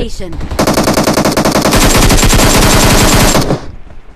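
Rapid automatic gunfire from the mobile battle royale game BGMI rattles in one loud, continuous burst lasting about three seconds before cutting off and fading.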